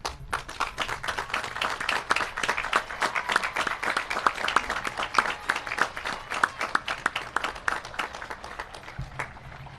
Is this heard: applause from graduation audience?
yes